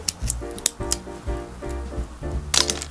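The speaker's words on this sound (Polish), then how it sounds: "Mam trochę za tępe nożyczki, ale to nic, będzie troszeczkę mniejszy." Slightly dull scissors snip through a thin wooden stick for a DIY stick Christmas tree, giving several sharp, uneven clicks and cracks over a quiet tabletop background.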